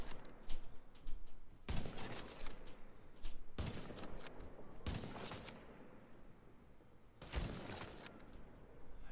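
Rifle gunfire from The Division video game: several loud, sharp volleys of rapid shots in separate bursts, with steady game ambience in between.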